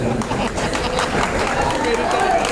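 A large crowd claps steadily at an outdoor political rally in Ramnagar, Uttarakhand, a dense, continuous patter of many hands that fills the scene, with voices mixed in.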